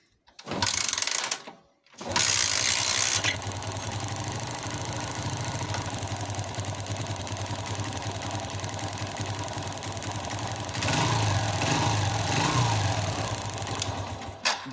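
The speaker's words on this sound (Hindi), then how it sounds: "बाइक स्टार्ट हो रही है लेकिन करंट एक जरा सा नहीं दिख रहा है" A TVS Sport BS4 motorcycle with an ignition coil fault is kicked over, giving a short burst, a brief pause, then a steady mid-pitched engine running close by that grows slightly louder near the end, with no talk over it.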